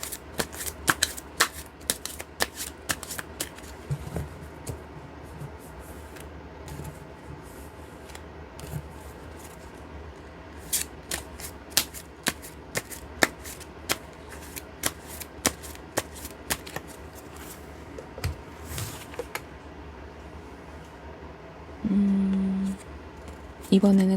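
Tarot cards are shuffled and spread out on a table, making a long run of crisp, scattered flicks and rubs at close range, with a brief louder rustle near the end.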